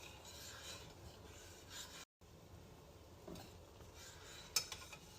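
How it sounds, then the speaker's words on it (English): Milk tea stirred in a pot with a spoon, a quiet ongoing scraping swirl with faint utensil clinks, a brief silent gap partway through and a sharper metallic tap near the end. "Give this a little stir here."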